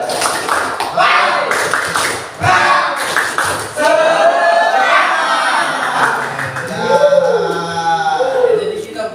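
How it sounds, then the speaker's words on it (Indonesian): A class doing the rhythmic tepuk semangat spirit clap: bursts of group hand claps in a patterned rhythm, fairly close and loud, mixed with voices chanting and speaking between and over the claps. "ice breaking dulu ya, yang sederhana saja, tepuk semangat saja"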